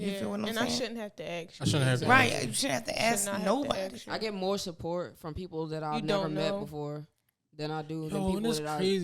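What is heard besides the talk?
No everyday noises stand out.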